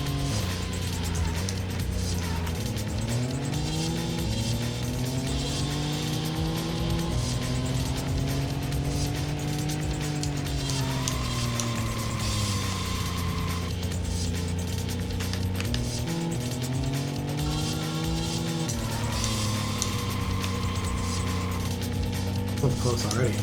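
Car engine in the racing game Racing Lagoon on a twisting, drift-heavy mountain course, a droning motor rising and falling through gear shifts with steady tyre squeal, under a person's talk.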